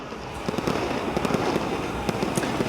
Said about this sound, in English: Well, how about some fireworks on the field?